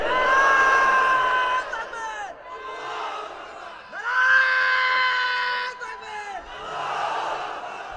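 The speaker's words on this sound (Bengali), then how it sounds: "প্রত্যেকের জবানে তাকবীর ধ্বনি আসবে" A large crowd at an outdoor religious rally loudly chants a takbir call in unison, long sustained collective shouts rising and falling in waves, close and powerful.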